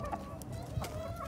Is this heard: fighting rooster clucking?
yes